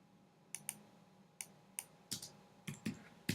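Keystrokes on a computer keyboard as a file name is typed, a sparse, irregular series of about a dozen crisp clicks, some in quick pairs, close and quiet against a faint room hum.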